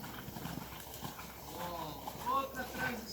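A horse trotting during show-jumping training, with steady rhythmic hoofbeats on footing under continuous background noise and a faint snort or whinny; moderately distant, with no clear talking.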